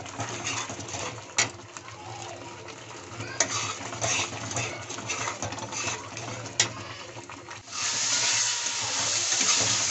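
A spice masala of turmeric and coriander powder is fried and stirred in a pan for a potol (pointed gourd) curry, giving a continuous soft sizzle with scraping strokes and a few sharp clicks, growing louder near the end.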